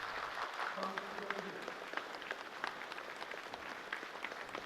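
At a ceremony where new housing certificates are handed out, a large crowd gives sustained, dense applause, heard a little distant and fairly quiet.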